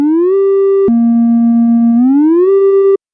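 A steady synth tone in FL Studio glides smoothly between slide notes, sliding up, dropping, then sliding up again before cutting off abruptly.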